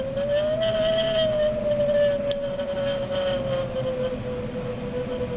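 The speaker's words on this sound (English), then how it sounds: "There's the wind." A Munsters house Halloween display plays a wind sound effect through a speaker inside the house: a steady howling whistle that slowly rises and falls over a broad rushing hiss, continuous and fairly loud throughout.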